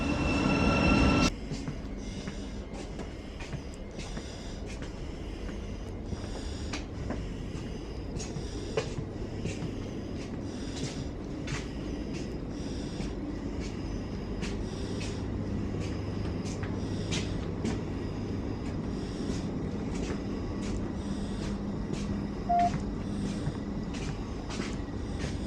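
A passenger train bound for Gatwick Airport rolls along with a steady, low rumble and a regular beat of clicking wheels over rail joints, after a loud thump at the very start.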